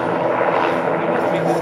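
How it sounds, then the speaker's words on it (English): A news helicopter hovers overhead above a fire where a large building has burned down, its rotor and engine a loud, continuous broadband roar that fills the whole stretch. "I think that helicopter might be the news. I'm not sure. Because it's just hovering."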